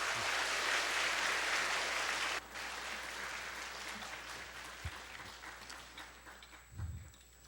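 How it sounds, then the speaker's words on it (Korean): A large audience claps loudly in sustained applause to welcome two guests, one a visiting professor, at a community gathering; the clapping drops at a sudden cut and then fades gradually. "우리 두 분 오실 때 한번 큰 박수로 환영을 하시도록 하겠습니다"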